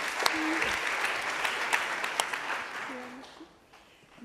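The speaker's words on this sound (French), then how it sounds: "Et on peut les applaudir." Audience applause at a French e-tourism startup contest and social media awards ceremony: a steady, dense burst of clapping that holds for several seconds and then thins out toward the end.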